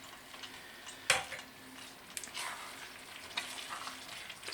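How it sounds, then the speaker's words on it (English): Frozen peas being stirred into a green tomato and potato curry in a pot, with a faint sizzle underneath and a few soft scrapes and clinks of the spoon against the pan, no talking. "Stir those through."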